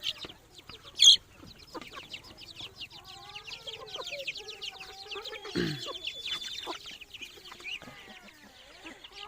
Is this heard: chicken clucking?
yes